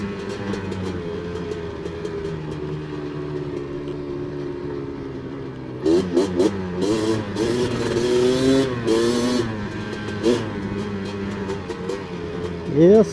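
A Honda 250R engine idling steadily, then revving in several sharp bursts that rise and fall in pitch, loud and close outdoors with a brief final blip.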